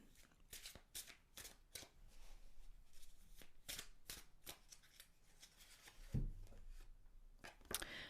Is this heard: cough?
no